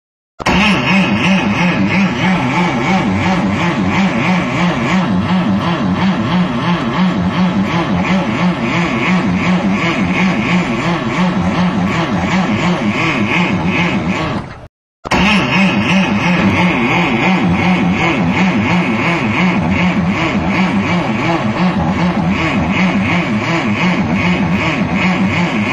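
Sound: engine running badly

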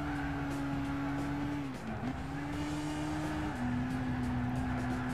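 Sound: race car driving and braking in Gran Turismo 6 video game

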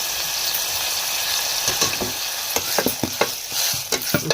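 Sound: tomatoes with salt being stirred and fried in a pan

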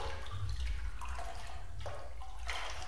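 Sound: splashing through water in the Backrooms video game

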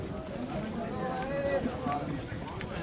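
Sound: desi Rajasthani mare's hooves clip-clopping

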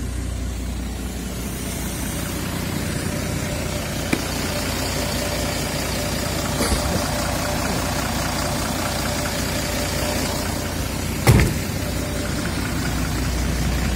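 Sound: bus engine idling

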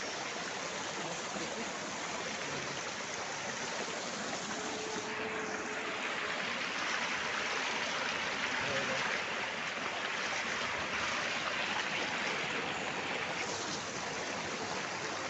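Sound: babbling stream water flowing

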